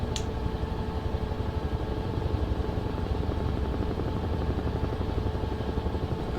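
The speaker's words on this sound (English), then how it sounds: "I like the sound design of this helicopter too." Helicopter engine and rotor in Microsoft Flight Simulator 2024, a steady, dense whine and rumble holding at an even level throughout with a faint rhythmic beat and no voices.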